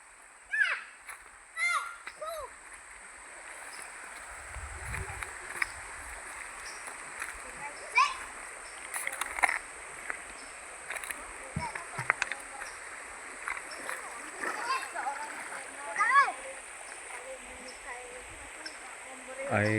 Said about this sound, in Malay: Ini orang budak-budak suka mandi di sini guys.